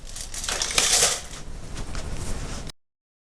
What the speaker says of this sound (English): So, let's put the clip in.